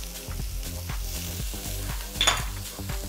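Butter sizzles in a pan, a steady close frying hiss with a brief louder crackle partway through.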